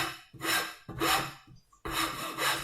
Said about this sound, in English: So take a rasp or a file,